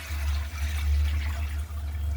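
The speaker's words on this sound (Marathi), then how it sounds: "आता आपण याच्यामध्ये अदनासाठी पाणी घालून घेऊ" Water pours steadily into a pan of sautéed gram greens, a continuous splashing rush that stays fairly loud and close for the whole stretch, with no voices.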